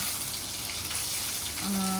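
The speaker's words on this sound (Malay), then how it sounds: "telur tu mesti kita basuh dulu kulit dia" Running water pours steadily from a tap over eggs being washed, a broad hissing splash throughout, with a brief tonal hum near the end.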